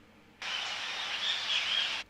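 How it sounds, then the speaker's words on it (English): A tropical bird sample from the Logic Pro X library starts abruptly after a short silence, giving a single sustained burst of bright chirping and calling for about a second and a half before cutting off. "Tropical bird."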